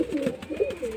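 A male Kaldum pigeon coos up close, with low, warbling notes rising and falling in a couple of rolling phrases across a single second.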